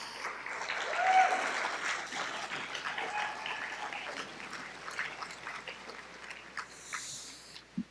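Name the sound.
audience applause for the sages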